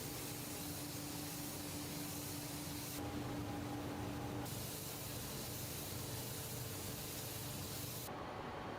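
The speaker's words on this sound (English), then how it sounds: "Then, a protective spray adds that glossy," Protective spray coating hissing steadily from a can onto a wooden skateboard deck, a continuous close airy spray with a brief pause near the end.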